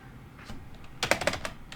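Rapid clatter of keys on a computer keyboard, a handful of sharp clicks bunched in quick succession after a faint earlier tap, close and clear with no talking.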